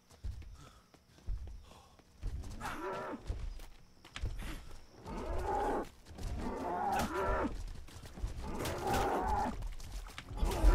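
Cattle in the survival game Atlas moo several times, long low calls rising and falling at moderate distance, with softer shuffling and ambient noise between them.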